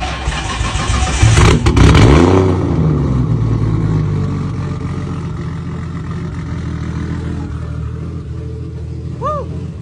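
A Nissan Skyline R33 in a DIY project car with a dirty engine bay cranks and catches, jump-started from another car's battery. It settles into a loud, close, rumbling idle with a brief rev.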